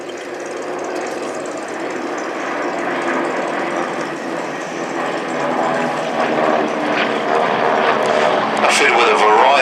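A Beech 18 twin-engine propeller aircraft flies past at an air show, a broad droning roar that swells gradually in loudness, running beneath continuous commentary.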